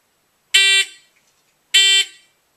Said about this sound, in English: it will give me the go beep, predetermined at an interval between 1 and 3 seconds